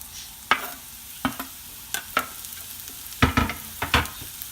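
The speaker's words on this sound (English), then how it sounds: "as soon as it heats up, you're going to add your onions." Onions hitting hot olive oil in a pan give sharp sizzling bursts with stirring clatter, several distinct spurts spread across a few seconds over a low steady hiss, close and fairly quiet.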